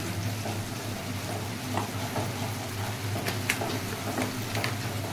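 Cumin and coriander powder masala cooking in a pan, with a low continuous sizzle and occasional scraping of a spoon as it is stirred. There are a few faint clicks, and the sound is close and steady with no talking.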